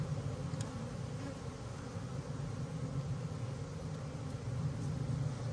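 A swarm of honeybees buzzes during the installation of a package colony, a steady, fairly faint droning hum that persists throughout without any speech.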